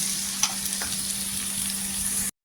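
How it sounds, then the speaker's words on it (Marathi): Chopped onions frying in oil with curry leaves, a steady close sizzle with faint crackles and a low hum underneath, ending abruptly. "छान असा कांदा गोल्डन कलरवर परतून घ्यायचा"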